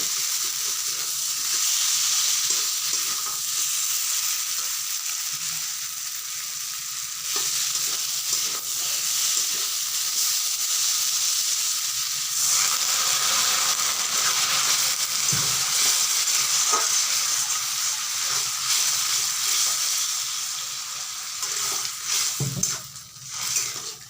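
A potato and dried loitta fish curry fries in a pan as a little water goes in, giving a loud, continuous hissing sizzle with occasional soft crackles and stirring knocks throughout.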